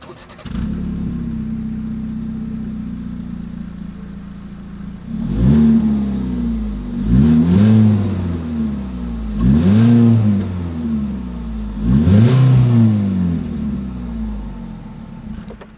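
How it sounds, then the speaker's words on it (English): A 2021 Ford EcoSport 4WD SUV engine idles steadily, then the exhaust is revved hard four times in a row, each rise and fall rumbling loudly up close before settling back to idle. "As always, here is that exhaust clip."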